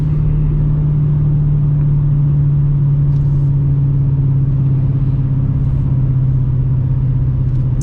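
A 2018 Dodge Challenger R/T with active exhaust rumbles in a steady, deep, loud drone while cruising, heard from inside the car with no voices.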